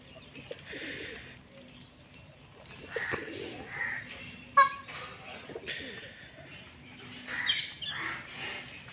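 Outdoor birdsong at an ashram with soft pigeon coos, peacocks and scattered chirps, moderately near, with faint voices and ambient rustle throughout.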